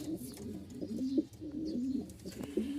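Pigeons for sale at a loft in Mirpur-1, Dhaka, including Lahori pigeons, coo in repeated low throaty phrases close by, alone with no talk.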